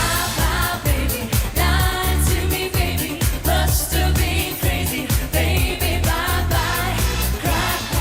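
The United Kingdom's 2003 Eurovision Song Contest entry plays as a full, loud pop mix with a pounding beat, bass and layered vocals, with no talk over it.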